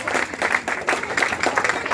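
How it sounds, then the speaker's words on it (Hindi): An audience at a public gathering breaks into applause for the presiding guest, a steady patter of many hands clapping at moderate volume, with a faint voice underneath. "ताली हो जाए सदर मोहतरम के लिए भाई"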